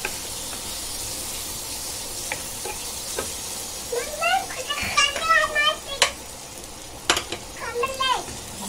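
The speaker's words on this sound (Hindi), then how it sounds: "अभी ये सब मसाला डालेंगे। अच्छी खुशबू आने तक इसको भुनेंगे।" Spice masala for rajma frying in a hot pan, a steady hiss running throughout with stirring scrapes, while children's voices chatter and call in the background.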